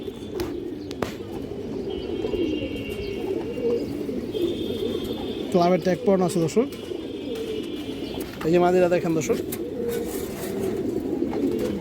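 Pigeons coo softly in the background at a pigeon keeper's place while someone talks over them, with a couple of brief squeaky calls rising above the chatter.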